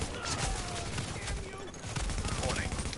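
Rapid video game gunfire crackles in dense, overlapping bursts like a fusillade, steady and moderately loud throughout, with a voice faintly present underneath.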